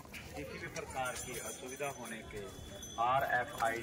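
Horse hooves clip-clopping on a hard path beneath ongoing chatter and voices during a pony ride near Katra, on the route to Vaishno Devi; the rhythmic steps fairly faint compared with the talk.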